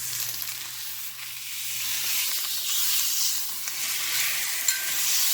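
Pot roast searing in a hot pan, a steady bright sizzle and hiss with a faint low hum beneath, close and continuous without talk.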